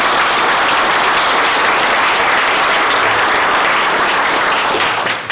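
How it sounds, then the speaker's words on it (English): A forum audience breaks into loud, dense applause, a sustained wash of many clapping hands that holds steady for several seconds before dropping off at the very end. "Let's give them a big round of applause."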